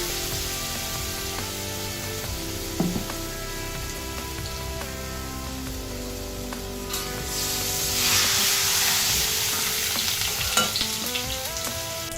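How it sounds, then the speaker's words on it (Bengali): Chana dal paste hits hot oil in a kadai for a vegetarian potol dorma, giving a steady frying sizzle that swells louder midway, with a faint tonal backing underneath. "তেলটা গরম হয়ে গেছে এবারে মিক্সিতে যে ছোলার ডালটা আমরা করলাম পেস্টটা সেটা দিয়ে দেওয়া হচ্ছে তেলের মধ্যে"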